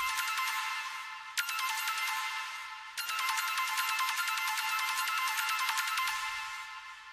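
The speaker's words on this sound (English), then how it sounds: "For supporting the whole drop, I added some arpeggios and it sounds like this." Bright synth arpeggios for a melodic dubstep drop race in rapid repeating note patterns, playing alone with brief breaks and restarts near 1.4 and 3 seconds.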